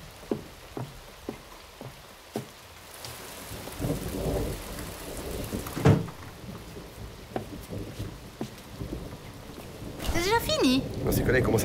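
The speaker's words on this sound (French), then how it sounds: "il commence à pleuvoir dehors" Outdoor thunderstorm with steady rain falling on surfaces and a deep rumble of thunder building in the middle, accompanied by scattered drip impacts and a brief burst of voices near the end.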